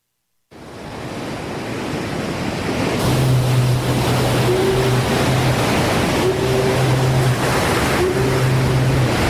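Ocean waves break in a continuous roaring wash that opens a local radio station jingle, swelling in after a brief silence, with a low repeating tonal hum underneath.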